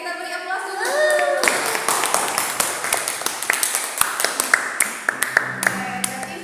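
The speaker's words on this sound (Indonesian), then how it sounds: "Oke, kita beri aplaus dulu." Classroom applause breaks out as students clap in quick, uneven bursts, close and fairly loud, with children's voices and chatter mixed in over the clapping.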